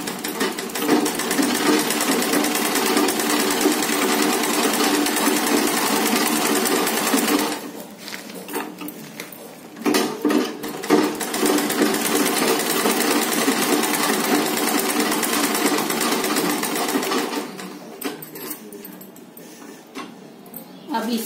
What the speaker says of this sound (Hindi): ये ऊपर का कवर बैग के साथ बराबर मिलाकर सिलाई करेंगे